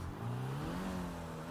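A car in GTA roleplay speeding away from a fire after being blown up while refueling, its engine revving up in a rising pitch, moderately loud and close, with no talk over it.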